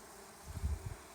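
Honey bees crowding over spilled pollen and sugar water at a backyard hive in summer, giving a faint low buzz that swells briefly in a few soft pulses over quiet background.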